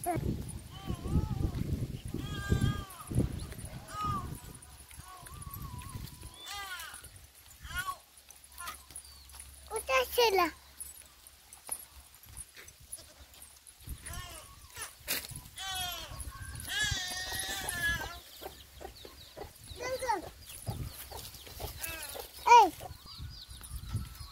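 Goats bleat several times in wavering, quivering calls, some near and some farther off, mixed with rustling and people talking intermittently.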